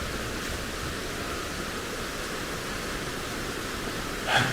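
A river flowing through scenic countryside in St. Elizabeth, Jamaica, a steady broadband rush of water that holds even and continuous, with a brief louder splash near the end.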